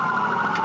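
Police car siren wailing loudly and close during a high-speed pursuit on a divided highway, a steady sustained tone with no talk.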